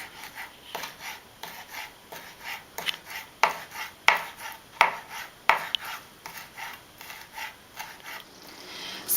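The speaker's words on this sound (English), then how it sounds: "we're going to chop our chives" A knife chopping chives on a cutting board, a quick series of crisp, close taps in an uneven rhythm, loud and alone with no talk.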